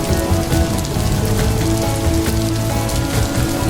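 Steady rain falls on a surface, a dense, close patter of raindrops that stays even and unbroken throughout, with no voices.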